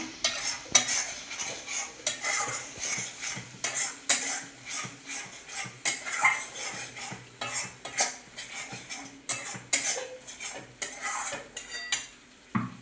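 Spice masala being stirred and fried in a pan for a cashew mutton curry, with steady rhythmic scraping and clinking of a utensil against the pan over a soft sizzle, close and continuous with no talk.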